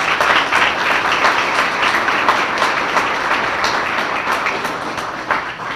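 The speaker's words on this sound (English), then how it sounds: "let's give him another big round of applause" A big round of audience applause at the 2018 Grove City Chamber dinner: many hands clapping in a loud, even, sustained wash for several seconds, with no talk over it.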